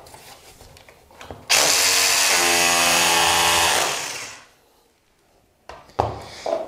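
A hammer drill boring a 6 mm hole into a wall for a plug while fitting skirting boards, one loud, close burst of about three seconds that winds down, followed by quiet handling noises.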